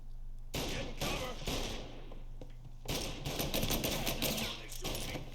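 Rapid bursts of enemy gunfire in the video game Mafia Definitive Edition, loud and dense, with a brief pause before a second heavy volley of overlapping shots.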